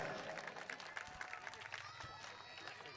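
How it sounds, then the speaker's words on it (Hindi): A crowd at a welcoming ceremony claps loudly and steadily for an honoured guest, the dense applause filling the space with voices mixed in. "ज़ोरदार तालियों के साथ में इस शख्सियत का इस्तकबाल किया जाए"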